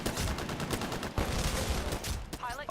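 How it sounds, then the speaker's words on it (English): Smart pistol fire in Titanfall, rapid crackling shots in quick bursts mixed with other battle noise, fairly loud and close, with a brief electronic whine near the end. "there was someone shooting me. He has a smart pistol"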